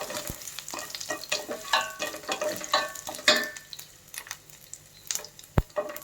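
Mustard seeds and crushed ginger frying in hot oil for a Kerala-style mushroom curry, with crackling sizzle, spoon scrapes and stirring clatter, and a few sharp pops standing out near and loud.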